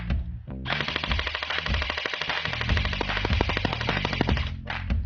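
An airsoft gun fires on full auto in a loud, continuous rattling burst lasting several seconds, close by, with a brief pause and restart near the end.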